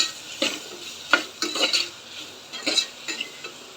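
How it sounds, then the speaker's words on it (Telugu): Oats khichdi with chilli powder and salt being stirred in a pan: a series of distinct scraping strokes of a spoon against the pan at an uneven rhythm, over a faint sizzle. "ఒకసారి కలుపుకోవాలి"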